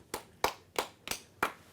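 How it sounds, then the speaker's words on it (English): Six sharp, evenly spaced hand claps ring out at a magic show, quick and distinct with quiet gaps between them rather than a full crowd roar. "Give them a round of applause."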